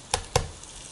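Ginger sizzling in oil in a cast-iron potjie pot as it is stirred, two short loud scraping bursts over a steady low fry.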